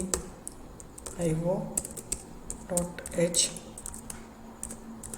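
Someone types C code on a computer keyboard, a steady scatter of close key clicks and taps at an uneven rhythm, with a voice talking over part of it.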